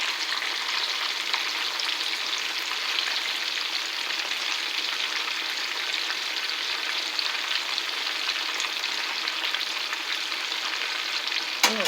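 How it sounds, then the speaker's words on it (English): Chicken drumettes fry in a pan with a steady, dense hiss and crackle of hot oil that stays even and close for the whole stretch, with no talking. "Now my chicken is frying."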